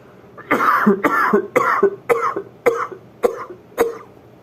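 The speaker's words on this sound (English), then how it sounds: "the coughs that I just expelled" A single person coughs eight times in a row, harsh and close, each cough short and evenly spaced with brief pauses between.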